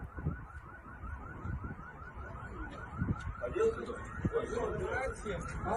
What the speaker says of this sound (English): We hear those silly sirens going off again.